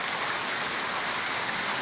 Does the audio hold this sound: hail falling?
yes